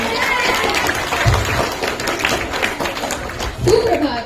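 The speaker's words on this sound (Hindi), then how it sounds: "तो जोरदार तालियों के साथ इनका स्वागत करें।" Audience applause welcoming a poet at a Hindi Day school event, steady dense clapping from a crowd filling the whole stretch with a few louder bursts, no speech over it.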